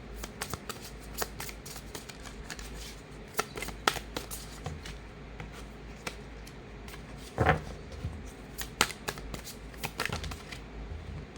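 Tarot cards shuffled by hand in repeated quick riffles and slides, a dense papery clatter that runs steadily throughout with a few sharper snaps, close and fairly quiet, with no talking.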